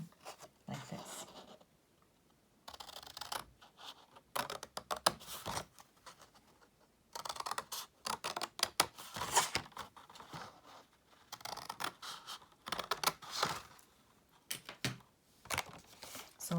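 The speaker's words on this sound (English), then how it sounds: "take all of these score lines and cut them up to this score line" Scissors snip through scored paper card for a pop-up box card, a run of short dry crisp cuts and rustles coming in bursts with brief pauses, close and fairly quiet.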